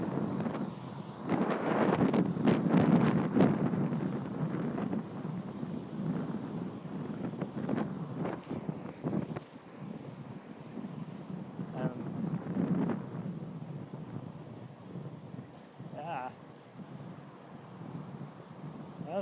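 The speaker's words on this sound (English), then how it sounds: "Oh, there's that wind." Wind buffets a microphone on a moving bicycle, heavy low rumbling gusts that swell and fade over the whole stretch, loud and close, with a few faint clicks and a brief tonal chirp near the end.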